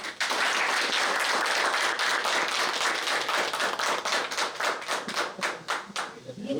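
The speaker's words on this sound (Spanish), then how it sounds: "Lo recibimos con un fuerte aplauso." A conference audience claps in a dense burst of applause that holds steady, then thins into scattered individual claps and fades over the last second or two.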